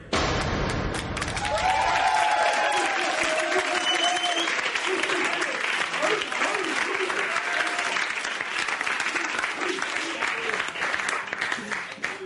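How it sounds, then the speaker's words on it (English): Studio audience clapping at the start of a live British TV show, a sustained burst of applause that swells quickly and carries on at full strength, with a few voices faintly mixed in. "Hey, they're clapping."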